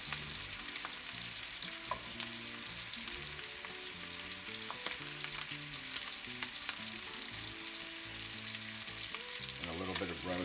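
A brined ribeye pork chop sears in a hot pan with a constant, dense sizzle that holds evenly throughout, with soft tonal music running underneath.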